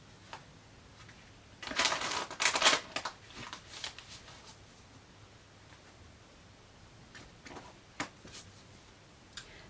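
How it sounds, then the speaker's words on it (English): Oracle cards being shuffled by hand, a dense riffling burst of a couple of seconds followed by soft, sparse taps and rustles of the deck, close and fairly quiet with no talk. "One more shuffle."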